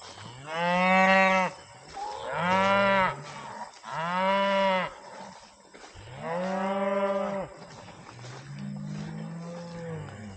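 Cattle are being herded by a cow dog on a riparian silvopasture. Five long, loud moos come one after another with brief gaps, and the last is softer.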